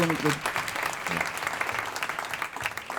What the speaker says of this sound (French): Est-ce qu'on peut applaudir encore Adrien, s'il vous plaît?